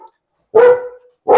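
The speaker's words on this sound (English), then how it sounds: "I got a new dog, and these guys start playing right now." A newly adopted dog barks twice, sharp and close, loud single woofs about three-quarters of a second apart with silence between.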